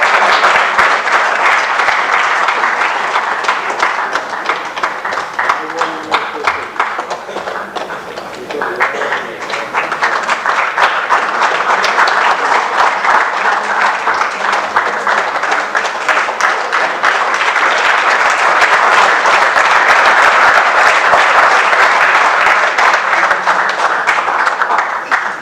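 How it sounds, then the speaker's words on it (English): Sustained, loud audience applause fills an awards and valedictory ceremony hall, dense clapping continuing steadily for about twenty-five seconds with a brief dip midway. "A big round of applause to Neeraj Singh."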